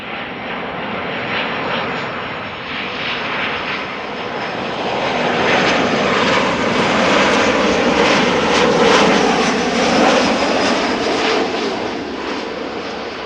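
A Boeing 737-700 airliner arriving from Geneva at Amsterdam Schiphol roars past with broadband engine noise that swells toward the middle and fades slightly at the end, steady and close, with no talk.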